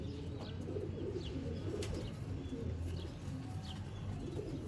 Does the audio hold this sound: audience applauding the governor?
no